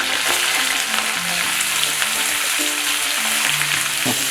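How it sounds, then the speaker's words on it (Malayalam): Chopped onion, green chilli and curry leaves sizzle steadily in hot oil with popped mustard seeds in a heated cheenachatti (wok-like pan), a continuous close, loud frying hiss with occasional stirring scrapes and crackles, no voices. "ഇനി നമുക്കതിലേക്ക് സവാളയും പച്ചമുളകും വേപ്പിലയും കൂടി ഇടാം"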